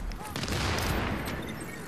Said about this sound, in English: I'm getting shot hardcore.